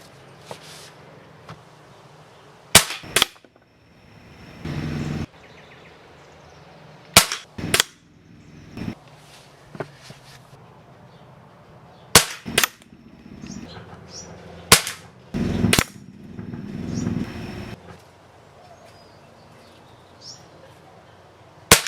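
Sharp, loud snapping shots from a Barra 1866 .177 air rifle fired at chicken silhouettes from 20 yards, single cracks spaced several seconds apart, each followed by brief lever-cycling clatter and handling noise.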